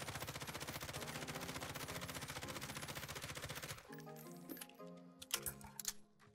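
An M13 assault rifle in the shooter game Warzone fires one sustained, rapid automatic burst for about four seconds, loud and close. It then cuts off into quieter clinks and scattered in-game sounds.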